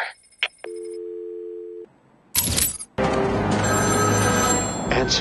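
A telephone rings in the video game Batman Arkham City, with electronic tones and a ringing signal followed by a loud, busy burst of game sound.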